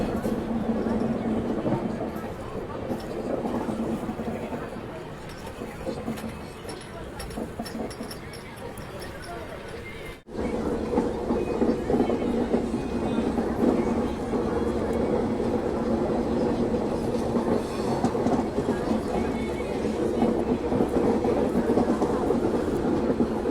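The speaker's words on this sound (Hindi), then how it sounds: "चलिए ट्रेन अपनी पुल पर चढ़ चुकी है" The Purva Express rolls onto a bridge over the Ganges near Varanasi's ghats, heard from inside the carriage. A steady rumble and clatter dips briefly, then returns louder and fuller for the rest of the stretch.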